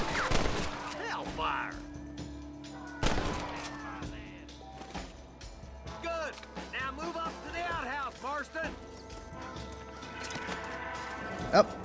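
Scattered gunshots crack in a Red Dead Redemption frontier shootout, single sharp reports spaced irregularly and fairly close, with spoken lines and other voices running between the shots.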